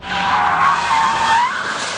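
A Rolls Royce drifting, its tires skidding and squealing in a loud, continuous screech that rises and falls for the whole stretch, with no other sound over it.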